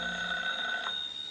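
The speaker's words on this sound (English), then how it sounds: "he was dozing off when the phone rang." A telephone bell rings in a radio drama sound effect, a single brief, clear ring heard alone and fairly close.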